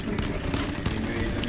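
Rapid bursts of gunfire crackle in a shooter video game, quick overlapping shots over a brief stretch with a voice talking over them.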